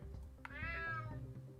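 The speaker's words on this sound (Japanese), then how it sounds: "Damn cat." A single drawn-out cat meow in the video game UnMetal, clear and fairly close, with faint background sounds around it.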